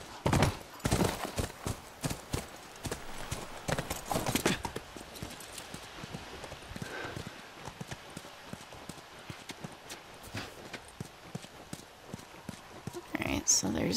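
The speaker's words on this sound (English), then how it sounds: "Horse doesn't like jumping up that close." Horse hooves clip-clop in The Last of Us, a steady walking rhythm of close, fairly loud footfalls mixed with game ambience, with a brief louder flurry near the start and again at the end.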